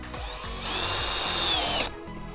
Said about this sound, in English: we want to drive these screws in through the top to secure this.